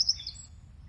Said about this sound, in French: Un joli petit merle.